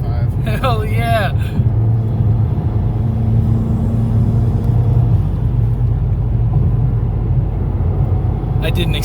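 Steady low engine drone of a 500hp Ford Mustang EcoBoost cruising on a road at highway speed, loud and continuous road rumble inside the car, with a voice speaking briefly near the start.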